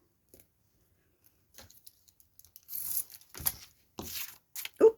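Scissors cut through paper for a snowy craft project, a few scattered soft snips building into several sharper crisp cuts and rustles up close toward the end.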